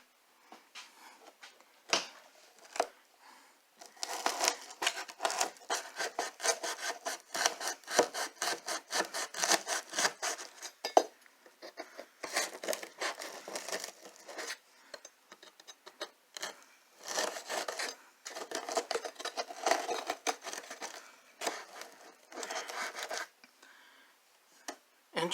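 A kitchen knife saws through the damaged skin and material of a hollow interior door, making steady back-and-forth rasping strokes that run in long, close runs with brief breaks.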